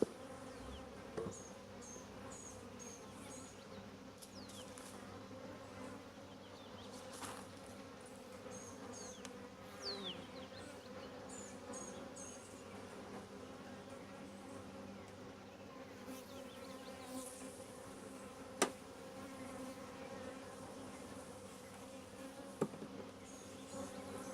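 Honey bees swarm around the entrance of a newly installed hive outdoors, making a soft, steady buzz that continues throughout, with insects occasionally passing close.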